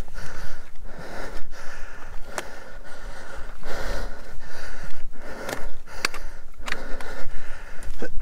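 A hiker is breathing heavily after climbing uphill at Caprock Canyon, with close, loud panting, gasps and sniffs in an uneven rhythm against outdoor background noise.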